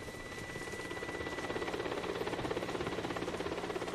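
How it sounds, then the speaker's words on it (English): A helicopter's rotor chops steadily in the distance, a low continuous drone with faint rhythmic pulsing that grows slightly louder as the helicopter arrives. "The helicopter's arrived."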